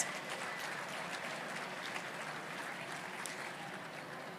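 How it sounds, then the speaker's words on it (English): Applause from a gala audience at a hospital foundation's Winter Splendor event, a soft, steady wash of distant clapping throughout. "Let's give them a round of applause."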